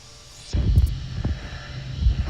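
Boeing 737-700 on the runway in the Infinite Flight video game, its engine hum and rushing wind rising and holding steady at moderate loudness, with a few low thuds underneath.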